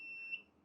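A Flying Bear laser engraving machine sounds a steady high-pitched electronic alarm tone when a limit switch is triggered, faint and continuous with a slight swell.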